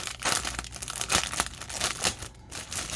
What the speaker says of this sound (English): Let me get it out of this plastic bag.